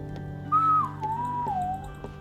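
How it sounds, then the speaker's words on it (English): A person whistles a single wavering tune, one sustained pitch that slides down and back up over about a second and a half, close and clear against a faint steady background hum. "Now, sometimes I'm good at whistling"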